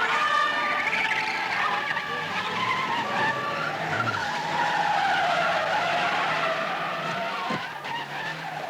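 A car skids through a stunt sequence for a film, tires squealing in a long, loud, sustained screech that wavers in pitch for several seconds before easing off near the end.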